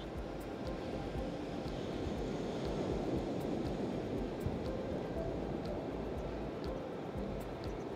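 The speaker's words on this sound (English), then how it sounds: "Listening to the ocean waves." Ocean waves make a soft, steady wash of surf that sounds distant and low, unbroken throughout with no talking.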